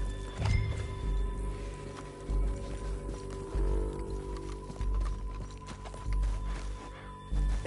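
Horse hooves thud in a steady galloping rhythm in Red Dead Redemption 2, fairly close and moderately loud, with sustained musical tones running underneath.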